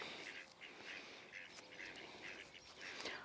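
Ducks quack in a run of short, repeated calls at an even rhythm, faint and somewhat distant.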